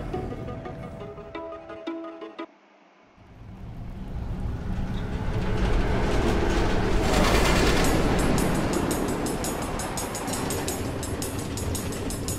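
Minecraft: Story Mode train rolling along its tracks, a loud steady rumble with rhythmic clatter that swells after a brief quieter dip near the start and holds to the end, with no talking.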